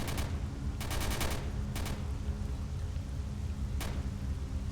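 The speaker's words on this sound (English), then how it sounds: "Someone's shooting their gun nearby." In S.T.A.L.K.E.R. Shadow of Chernobyl, nearby enemies fire guns in short, sharp bursts of several shots, followed by a single later shot, over a steady rumbling ambient background.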